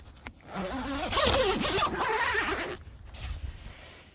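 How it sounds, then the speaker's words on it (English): A zipper on the D-shaped door of a large backyard camping tent is drawn open with YKK zippers in one long, rasping pull lasting a couple of seconds, close and moderately loud, followed by faint rustling. "It's got a D-shaped door here, YKK zippers. Let's open it up."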